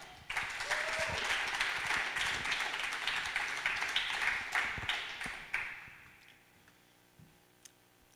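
An audience at a poetry slam with Bochum Bundestag candidates breaks into sustained, dense applause to welcome a candidate on stage, lasting several seconds before thinning out to a few scattered claps.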